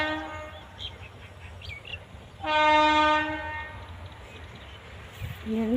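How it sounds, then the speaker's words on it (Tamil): A passing train sounds its horn in a rainy setting near a temple, a loud sustained blast rising over a low rumble of wheels, with faint chirps and distant voices around it. "ட்ரெயின் போகுது."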